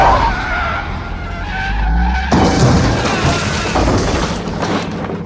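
Car skidding and ramming another vehicle in a Terminator movie scene: a loud, sustained tire screech and engine roar, then an abrupt harsh impact that turns into a dense roaring rumble.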